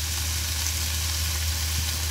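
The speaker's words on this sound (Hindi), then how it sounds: "अब आपने इसको अच्छे तरीके से मिक्स कर लेना है 2 स्पून की मदद से" Pasta is stirred and tossed with two spoons in a pan over high heat, giving a steady, dense sizzle of frying with no talk.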